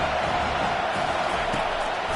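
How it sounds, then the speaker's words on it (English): A packed stadium crowd at an Auburn vs Miami football game roars steadily in a dense, sustained wall of cheering for the defense on third down. "Decibels rising as the crowd gets behind this defense on third down"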